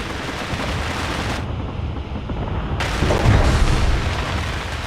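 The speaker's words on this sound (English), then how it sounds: "there's a good guy out there firing at these guys" Gunfire in the video game Space Engineers, a loud, dense barrage of booming shots and bursts that rumbles continuously, with a brief lull before the firing swells again nearby.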